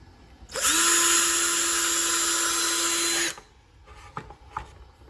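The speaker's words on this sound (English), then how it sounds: "So now we just drill through those holes" A power drill whirs loudly for about three seconds drilling through hard plastic, its steady high whine holding pitch, then stops, followed by a few faint clicks and handling noises.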